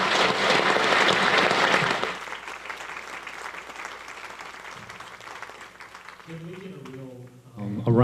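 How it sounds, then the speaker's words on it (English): An audience applauds a panel with loud, dense clapping for about two seconds, then the clapping thins to a softer patter before a person starts speaking. "A round of applause for the whole panel."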